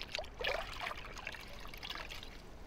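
Water trickles and drips off a car during a hand wash with a no-rinse solution in New York City, a soft, irregular dribble with a few splashy patters early on, close and fairly quiet.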